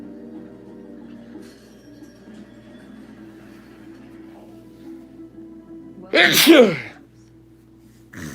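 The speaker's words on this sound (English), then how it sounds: "I sneezed there." A single loud sneeze bursts out near the end, following a stretch of quiet low background hum.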